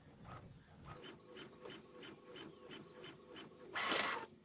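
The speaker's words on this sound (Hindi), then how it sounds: "ये देखिए प्रिंटिंग हो रहा है, ये थोड़ा सा टाइम लेगा" An inkjet-style printer prints an Aadhaar card, its head carriage sweeping back and forth in a steady rhythm of about one pass per half second, ending in a louder whirring burst as the page feeds, close and alone.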